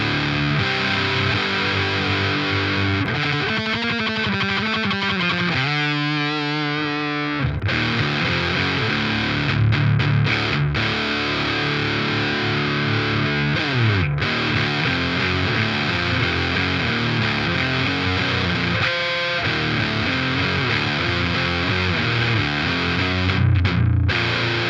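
A PRS electric guitar played through a TC Electronic Eyemaster pedal set for a Swedish buzzsaw distortion tone, giving thick, heavily saturated riffs with sustained chords and chugging palm-muted passages, loud and continuous throughout.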